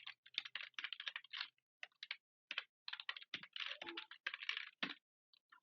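Fingers type on a computer keyboard in quick bursts of close, light clicks separated by short pauses, steady and alone without any voice.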